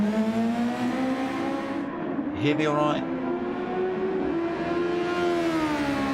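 Race car engines drone steadily in the background with a rising and falling whine as a car passes on the Nürburgring GP circuit in a Super Formula race, while someone speaks over them.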